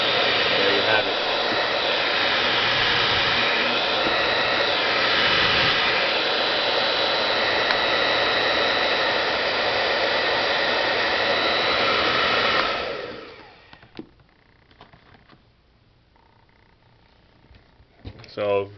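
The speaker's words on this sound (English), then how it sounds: "It is not the loudest dryer out there, so that's pretty good for noise level" A Rusk Speed Freak 2000-watt professional hair dryer on its high setting blows with a loud, steady roar for several seconds, then shuts off, leaving a few faint clicks and handling noises.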